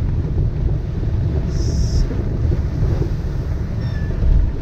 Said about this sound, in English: We are bashing up wind now,